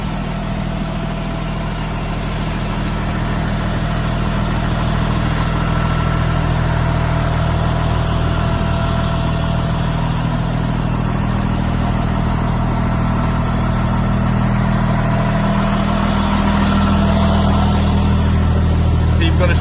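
A Claas Xerion tractor engine runs steadily nearby, a loud, low continuous drone with a deep rumble that holds constant throughout.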